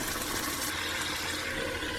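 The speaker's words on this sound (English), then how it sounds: "so we'll just add a bit of water." Water is added to a pan of thickened eggplant curry gravy, a continuous bright splashing rush of steady pouring that runs for the whole couple of seconds without any voices.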